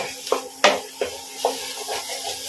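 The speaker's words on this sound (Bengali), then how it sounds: "নাড়িয়ে নেওয়া হচ্ছে যাতে মশলাগুলো কষে যায়" Garlic and ginger paste frying in a pan gets stirred in soft, spaced scraping strokes, about six in all, over a faint sizzle and a low steady hum.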